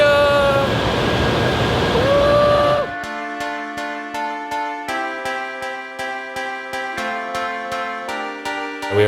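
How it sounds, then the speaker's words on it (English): A bullet train from Osaka pulls into Tokyo with a smooth rushing hum and a falling electric whine, then the noise cuts off and a bright melodic chime rings out in evenly spaced notes. "we arrived on a bullet train. It's very quiet and very fast"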